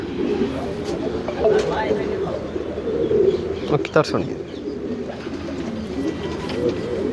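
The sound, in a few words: racing pigeons cooing in loft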